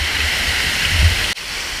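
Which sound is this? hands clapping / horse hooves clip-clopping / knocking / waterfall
waterfall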